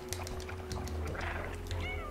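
A cat meows amid sounds of the video game Stray, with a steady low hum and electronic tones underneath.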